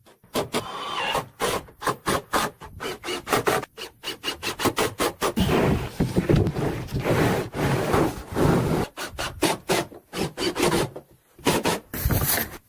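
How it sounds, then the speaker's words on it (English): Plywood subfloor sheets being laid over joists and secured for the upper loft of a large log home in the wilderness, heard as a close series of short wooden knocks, scrapes and rubbing bursts with brief pauses between. "Plywood sheets are being installed over the joists to create the subfloor for the upper loft area."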